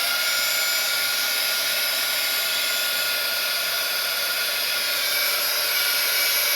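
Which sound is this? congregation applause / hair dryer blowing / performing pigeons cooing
hair dryer blowing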